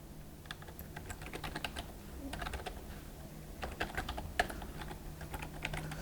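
Fingers type on a computer keyboard while entering trading-script code, producing quiet, irregular clusters of clicking keystrokes over a faint steady hum.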